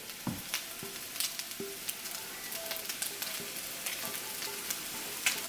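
Chicken chipotle sauce poured into pasta in a pan gives a soft, steady sizzle with scattered ticks and scrapes of stirring, fairly quiet and close, with no talking.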